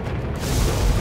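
A particle cannon in Command & Conquer Generals Zero Hour fires with a single deep, loud boom that swells and rumbles close by for about a second.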